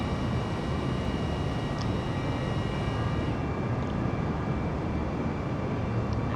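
A Boeing 787-10 in Microsoft Flight Simulator 2020 rolls for takeoff, a steady loud engine roar with broad rushing noise and faint whining tones, unbroken throughout.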